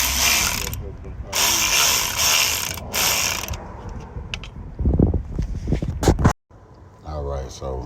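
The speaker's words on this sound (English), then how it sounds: "Alright, so we're putting the flywheel back on." Ratchet wrenches click in rapid bursts while a flywheel is refitted to a Chrysler 300 5.7 engine during a rear main seal repair. Clanks and tool handling follow, and voices can be heard in the background.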